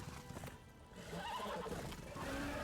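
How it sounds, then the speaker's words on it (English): A horse in the video game Darksiders 2 whinnies, a shrill wavering neigh over clopping hooves and game ambience, moderately loud and fading out. "first of all, you wanna get rid of the horse here"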